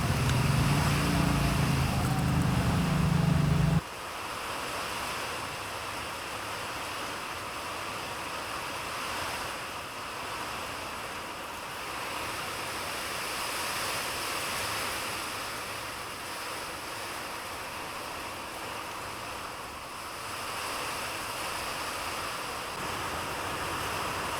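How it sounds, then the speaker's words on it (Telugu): Heavy rain pours onto the tin sheet roof of a poultry farm shed in a dense, unbroken roar that continues throughout, with a deeper hum layered in for the first few seconds. "వర్షంకి ఆ రేకుల సౌండ్ కూడా చూడండి ఎట్లా వస్తుందో"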